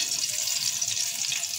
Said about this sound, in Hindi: तड़का मैं लगाऊंगी ज़ीरे का